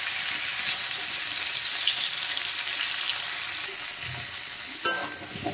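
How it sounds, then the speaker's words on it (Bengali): Cauliflower pieces fry in oil in a pan, a constant moderate sizzle with a few light stirring scrapes and a sharp knock toward the end. "এখন আমি ফুলকপিগুলো ভেজে নেব।"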